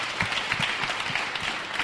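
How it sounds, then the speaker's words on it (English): A live audience applauds four Sahara-crossing guests at a talk event, a brief burst of dense, even clapping from many hands, close and steady without voices. "give them, all four of them, a massive round of applause"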